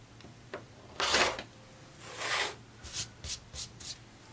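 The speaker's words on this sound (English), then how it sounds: "let me go ahead and cut all that excess here" Scissors snip and slide through excess quilt fabric, a few soft close rustling cuts followed by quicker short snips.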